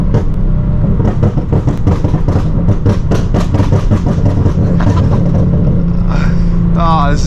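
A Nissan 370Z Nismo sports car engine revs and roars throughout in a canyon, its tone rising and falling between gear changes, with a reverberant, echoing quality and brief voice-like sounds near the end.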